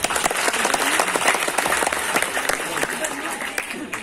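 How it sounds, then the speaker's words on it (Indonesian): Audience applause at a religious haul commemoration gathering, a dense steady wash of many hands clapping at once with a faint voice underneath. "Tepuk tangan untuk beliau."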